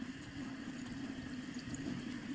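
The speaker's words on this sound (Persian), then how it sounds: "خب با آب کامل میشورمش" Tap water runs steadily as a face is rinsed, a continuous close gush and splash with no pauses.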